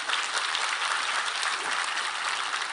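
Steady, dense audience applause fills the room at a constant level, a broad wash of many hands clapping together without pause, heard alone with no voices on top.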